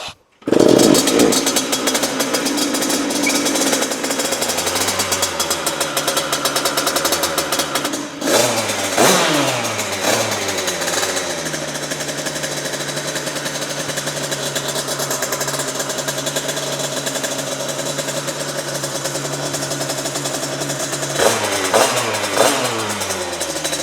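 A 50cc moped engine fires up and revs loudly throughout, its buzzing two-stroke note rising and falling through several throttle blips close to the listener.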